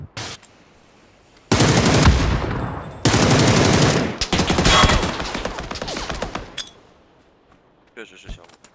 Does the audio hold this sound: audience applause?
no